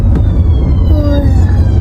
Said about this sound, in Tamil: இப்போ ஆம்புலன்ஸ் போகுது